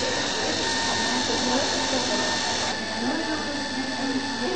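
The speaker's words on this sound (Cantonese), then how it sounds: "呢一款玩具朱古力噴泉大受歡迎" A 24 cm toy chocolate fountain from Japan, switched on and running with melted chocolate, gives off a steady, even mechanical whir that holds at the same level throughout.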